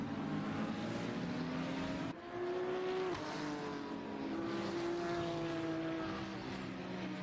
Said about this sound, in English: just seeing all these hypercars come around here.